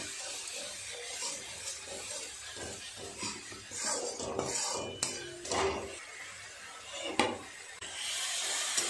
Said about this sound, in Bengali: খুব ভালো করে মশলাটা কষাতে হবে তেল ছাড়া পর্যন্ত